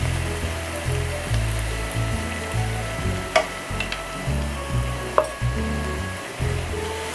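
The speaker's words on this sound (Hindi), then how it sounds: "इसी पॉइंट पर हम बॉईल की हुई चने की दाल इसमें ऐड कर रहे हैं।" Boiled chana dal frying with methi in oil in a pan gives a continuous hissing sizzle. Occasional utensil clinks and stirring noises break it, with no voices.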